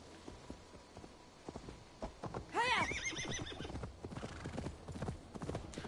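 A horse neighs once in a loud whinny amid steady clip-clop of hooves on the ground, moderately close, with faint voice-like sounds in the background.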